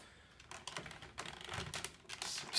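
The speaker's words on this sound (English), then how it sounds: "you will hear it click into place too" A plastic toy robot part from a Uranus Saver combiner set, slid over the Solar Saber connectors, gives a run of small sharp clicks and snaps in close, irregular bursts with no voice over them.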